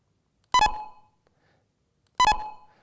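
Two short, loud electronic beeps sent over a telephone line between Dallas and Milan, spaced about one and a half seconds apart, each clean and isolated against silence.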